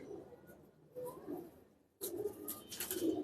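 Female pigeons in a loft, kept for sale, give low throaty coos in soft repeated bursts close by, with a brief pause before a fuller stretch of cooing and rustling.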